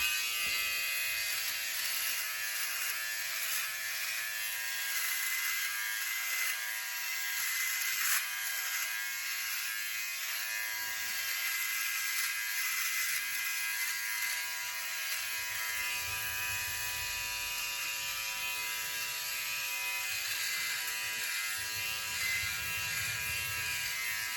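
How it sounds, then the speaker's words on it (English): An electric OneBlade shaver glides over skin, giving a steady, close electric buzz that holds evenly throughout with slight shifts in tone as it moves; no one talks. "I'm letting the weight of the device make all the moves, guys. I'm just gliding this over my skin."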